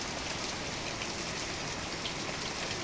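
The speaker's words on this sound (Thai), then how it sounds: "ฝนตกใส่กระถางต้นไม้" Steady rain pours onto flower pots, a dense, even hiss of countless drops that holds without pause, with no voices over it.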